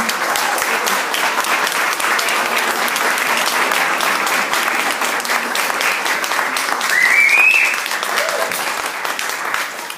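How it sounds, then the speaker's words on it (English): A crowd claps loudly and continuously for a children's cultural heritage performance, the applause holding steady throughout with a faint whistle or cheer partway through. "So just a round of applause for them."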